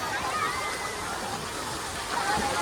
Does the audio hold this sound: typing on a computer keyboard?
no